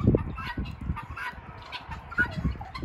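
Chickens cluck nearby in short, irregular bursts, a few soft calls overlapping one another with quiet gaps between them, on a snowbound farm in bitter cold.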